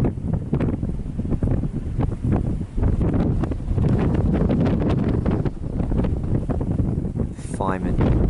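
Strong wind buffets a handheld camera microphone outdoors at a large wildfire in Cyprus, a loud, continuous roar and rumble that dominates throughout.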